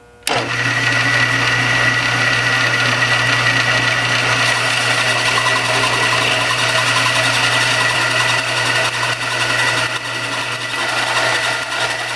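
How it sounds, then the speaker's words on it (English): A power drill runs continuously at high speed, a loud steady whine grinding into metal with cutting lubricant applied, from start to finish with no pauses. "exact same depth to start with. A few drops of the Tap Magic on there."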